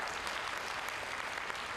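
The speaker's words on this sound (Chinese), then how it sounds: "我希望各位同学呢，啊，把自己鼓掌一下" Students in a school English-performance contest applaud themselves, a steady dense wash of clapping from a room full of hands that holds evenly throughout without any talk.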